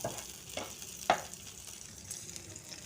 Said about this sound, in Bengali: এখন গরম তেলের মধ্যে উল্টে পাল্টে ভেজে নেব